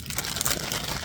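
Crinkly plastic packaging holding diamond painting supplies rustles and crackles in one brief, steady burst of crumpling close by.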